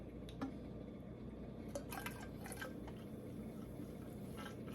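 Homemade almond milk poured from a Tribest nut milk maker into a container, a soft, steady liquid trickle with a few light splashes and drips, close and fairly quiet.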